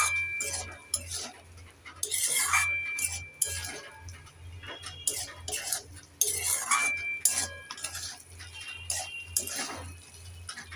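A spoon stirs papaya kofta curry seasoned with sugar and salt in a pot, giving intermittent bursts of metallic clinks and scrapes, close by, separated by short pauses.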